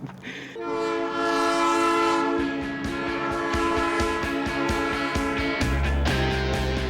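A loud, sustained train horn blares over the rumble of a passing train, with rhythmic clacking of wheels on rails growing steady; near and powerful.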